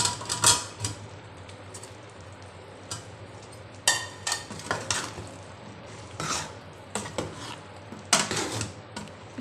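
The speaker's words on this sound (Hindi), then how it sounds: "अच्छी तरह से मिक्स कर देती हूँ।" A spoon stirring bottle gourd into an onion-tomato curry in a pot for fish curry with beans, with scattered clinks and scrapes against the metal, fairly close and moderately loud, and no talking.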